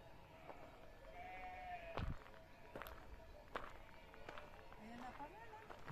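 Sheep bleat on and off in an outdoor field, several animals calling at moderate distance over a steady background murmur.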